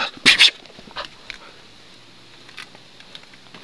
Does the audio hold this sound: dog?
yes